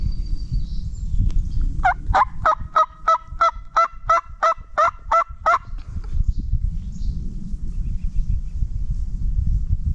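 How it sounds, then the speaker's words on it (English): A wild turkey gobbles in the Appalachian highlands, a rapid rattling burst of about a dozen pulses, clear and moderately distant over low rumbling outdoor background. "I'm not there long before I get a bird to gobble."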